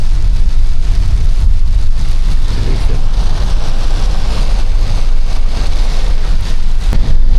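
Heavy typhoon rain roars steadily with broad rushing noise and deep rumble, loud and continuous, like a downpour with wind, amid flooding.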